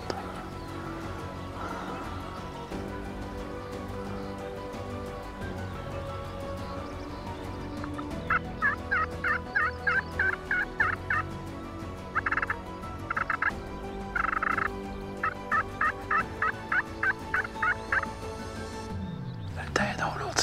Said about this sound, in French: Le dindon, l'autre s'en vient.